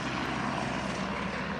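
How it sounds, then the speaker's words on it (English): Helicopter lifting off from a helipad on a Himalayan trekking route, a loud, steady engine and rotor roar close by, unbroken over a brief moment. "watching the first helicopter of the day take off right ahead of us"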